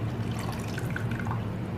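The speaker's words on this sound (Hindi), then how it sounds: "थोड़ा सा पानी ऐड करूँगा" Water is poured onto a kilo of rice for dal chana pulao, a close, steady low splashing and trickling with faint drips throughout, no voices.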